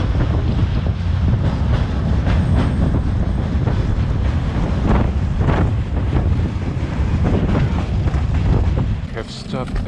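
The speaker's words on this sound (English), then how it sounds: "The wind above the freight is incredible" Loud, constant wind roar buffeting the microphone from atop a moving freight train, over its low rumble as it rolls along, steady throughout with no break.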